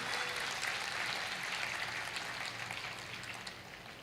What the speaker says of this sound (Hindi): एक बार जोरदार ताली बजाइए खाटू श्याम जी के दरबार में।